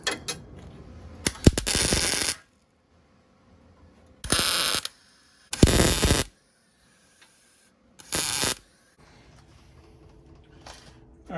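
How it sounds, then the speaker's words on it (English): A ratchet drives bolts on car headlight brackets, its rapid clicking pawl coming in several bursts of one to two seconds separated by quiet pauses, close up, with faint shop noise in between. "Now I'm just gonna bolt them on, and then we're gonna tack them in place."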